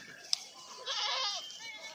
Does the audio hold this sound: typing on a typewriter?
no